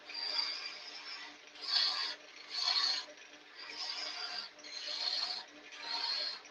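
Abrasive sanding on a wooden lidded box spinning on a lathe, with the tailstock still engaged, comes as six rhythmic rasping passes of roughly equal length, close and moderately loud, with no voices.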